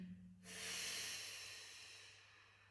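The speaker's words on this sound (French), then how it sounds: "Inspirez, descendez. Expirez, poussez." One heavy breath during a dumbbell strength exercise, a long, close, breathy exhale that swells quickly and then slowly fades.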